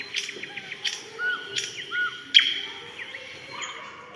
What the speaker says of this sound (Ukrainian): Соловейко не затих.